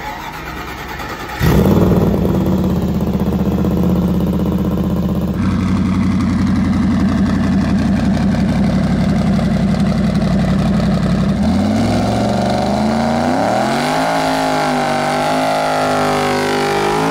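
A 2,000 hp Ford Coyote V8 in a car sitting on jack stands fires up with a loud burst, then idles with a deep steady rumble before revving up, pitch rising and falling, close and loud throughout.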